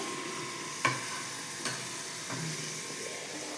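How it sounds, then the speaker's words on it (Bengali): Chicken pieces sautéing in a pan with tomato and spices, giving a steady low sizzle with a few sharp clinks of a spatula against the pan, no talking. "মুরগির মাংস কষা হচ্ছে, এটাকে কষতে হবে।"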